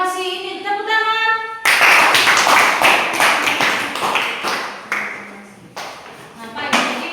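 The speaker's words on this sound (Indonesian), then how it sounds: "Ini tepuk tangan." A classroom bursts into applause, many hands clapping together in a dense, lively patter that swells, dips and picks up again for several seconds. A voice sings tones just before it starts.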